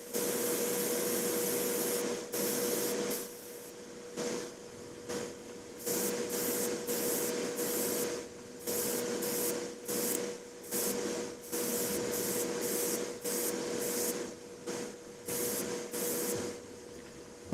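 An airbrush sprays matte varnish onto painted miniatures in repeated bursts, each hiss followed by a short pause, near and loud, with no talking.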